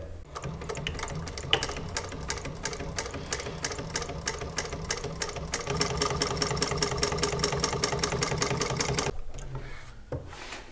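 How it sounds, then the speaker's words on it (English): A sewing machine runs a steady, rapid train of stitches along leather for a quiver, fairly quiet and alone, stopping abruptly near the end. "Throw on a stitch line on the back just for cosmetics of it"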